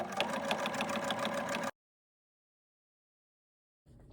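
A sewing machine stitches a long straight stitch through PUL and flannel for a cloth pad, making a short, close burst of quick rhythmic motor chatter that stops abruptly and is followed by silence.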